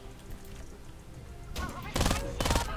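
Sniper fire in a PUBG or Farlight 84 match: two sharp, loud gunshot cracks close together near the end, over quieter game ambience with faint voices.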